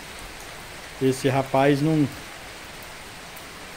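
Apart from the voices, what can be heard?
rain falling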